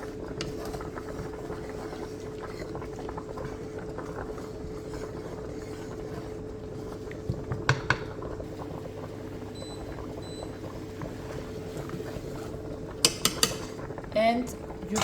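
Salmon pasta is stirred in a pan, with soft scraping and a gentle simmer running steadily, then a few sharp clinks of utensil against the pan near the end.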